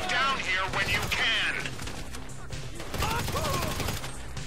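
Bursts of Grand Theft Auto V gunfire crackle in rapid volleys while a voice talks excitedly over the shooting.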